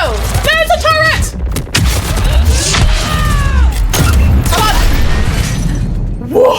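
Turret gunfire and explosive booms in Mass Effect 3 crackle loudly and repeatedly in dense bursts, overlapped by shouted voices and other combat noises.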